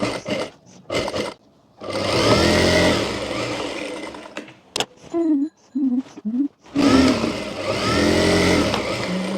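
A sewing machine stitching a baby lehenga, running in loud continuous whirring bursts near the start and end, with short clicks and a few brief starts in between, close up.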